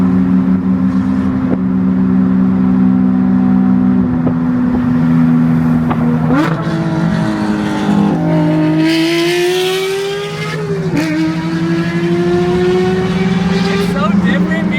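A Porsche 992 GT3 with a naturally aspirated engine revs and accelerates hard from inside the car, a loud, steady engine tone climbing through the range with a shift, while occupants talk over it.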